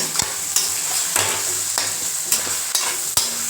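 Scrambled egg and rice being stirred together in a frying pan, a continuous sizzle broken by regular spatula scrapes and knocks about every half second, close and fairly loud, no talking.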